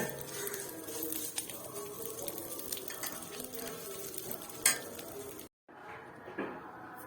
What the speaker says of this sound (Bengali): আর এই সিমুইয়ের মধ্যে আমি দিয়ে দেবো কাজু কিশমিশ, দিয়ে একেবারেই ভেজে নেব।